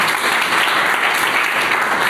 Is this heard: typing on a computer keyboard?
no